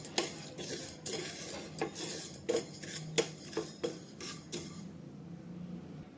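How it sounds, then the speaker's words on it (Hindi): Fennel seeds dry-roasting in a hot pan over a low flame, a utensil scraping and tapping the pan in irregular metallic clinks over a soft hiss, close and quiet, then stopping. "पैन गरम हो गया है, तो इनको अच्छे से धीमी आंच पे ही रोस्ट करना है।"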